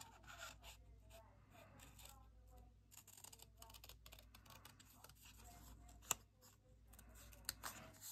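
Scissors snipping through paper for a one-page craft pocket, quiet crisp cuts in short irregular bursts over a faint steady background hum, with soft handling rustles and a sharper click near the end.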